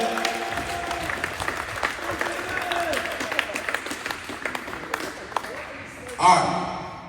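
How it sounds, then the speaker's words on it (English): A group of students clapping in a school gym during a motivational session, scattered irregular claps amid voices and shuffling, ending with a louder burst and ringing echo. "Clap it up. Clap it up."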